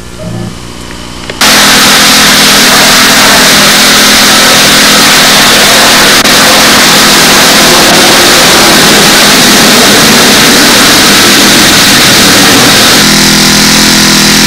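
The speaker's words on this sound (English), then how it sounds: "Now our first step with any new engine, we just let it run out." A new small model engine on test with a tuned pipe, bursting into a loud, sustained high-pitched scream after a quieter start and holding steady almost to the end.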